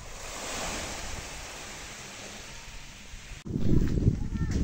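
Surf washes in at Waniban island with a steady, broad hiss of breaking waves, then a louder, rougher gust of wind buffets the microphone near the end.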